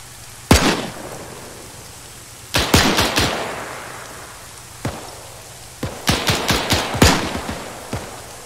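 A mounted machine gun fires in a World War II battle in Arma 3, loud sharp bursts of several rapid shots and single cracks separated by pauses, echoing over a steady rain-like background hiss.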